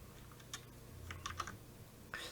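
Computer keyboard keys pressed during Photoshop work, a few quiet separate clicks and short clusters of taps over low background hum, no voices.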